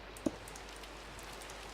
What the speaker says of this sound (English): as it's raining again